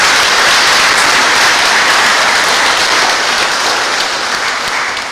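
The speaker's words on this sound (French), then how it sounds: "Merci mes frères de les applaudir." Loud, dense applause from a church congregation for the choir at a Sunday Mass, a sustained roar of clapping that fades slightly toward the end.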